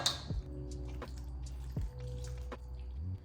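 Thick cheesy chicken and broccoli bake mixture being scooped into a baking dish, with soft wet squishing and dripping plops at a few irregular moments over a steady low background hum.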